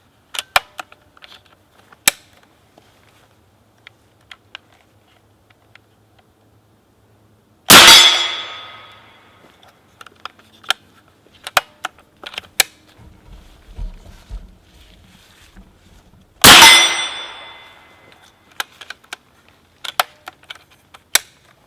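The action of a Benjamin BullDog .357 bullpup air rifle is worked open and closed like a bolt, giving two sharp, loud metallic clacks several seconds apart among scattered small clicks and handling noises.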